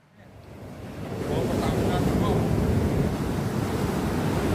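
Steady roar of high surf and strong wind on a beach at Tanah Ampo, Karangasem, Bali, builds in the first second, then holds loud and continuous, with no voices.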